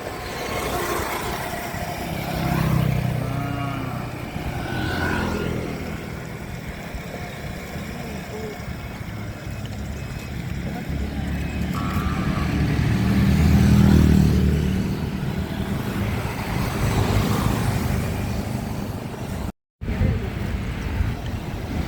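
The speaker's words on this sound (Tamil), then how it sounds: "சாலையில் வந்து அதிகளவான போக்குவரத்து அதாவது வாகனங்கள் எல்லாம் அதிகமாக போய் கொண்டிருக்குது" Heavy road traffic on a street in Tellippalai, vehicles rumbling past one after another with swelling engine noise and some wind, steady and moderately near throughout.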